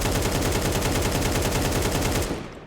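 Rapid automatic gunfire in Counter-Strike 2, fired in a fast, steady stream of close, loud shots while counter strafing, then stopping abruptly and fading out at the end.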